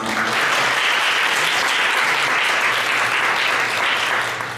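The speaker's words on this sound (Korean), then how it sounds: "목사님 나오실 때 박수로 환영해 주시기 바랍니다." Church congregation applauding at a Thursday worship service to welcome a pastor, steady dense clapping that stays loud and even throughout, with no voices over it.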